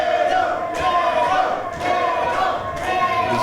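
A pro wrestling crowd roars and chants in rising and falling waves with rhythmic swells, loud and continuous throughout.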